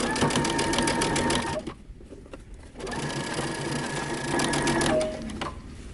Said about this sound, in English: I'm going to be sewing really close to the edge